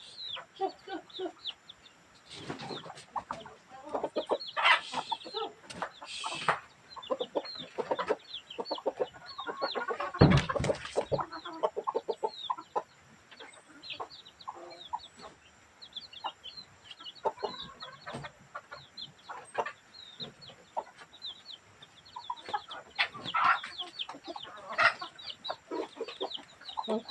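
Chickens cluck and squawk continuously with busy, overlapping calls, some nearby and some farther off, plus a sharp flurry partway through.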